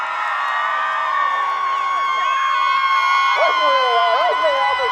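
A crowd cheers loudly and continuously at a young farmers' tug of war semi final, with whoops, shouting and voices rising in a dense, sustained roar.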